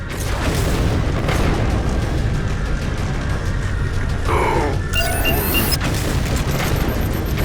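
Heavy booming gunfire and explosions from the railgun fight against Phantom dropships in Halo 4's Reclaimer mission, a dense continuous roar with sharp bursts and mechanical whirs near the middle, no talk.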